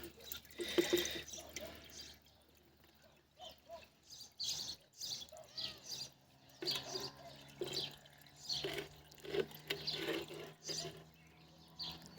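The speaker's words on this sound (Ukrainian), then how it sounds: "Набираю воду" Water is being filled from a tap in a series of irregular splashes and pours rising and falling in bursts, with birds singing faintly in the background.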